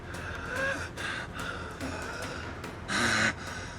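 A man gasps and breathes heavily inside a stuffy car, with several strained breaths and a louder gasp near the end, close and fairly quiet.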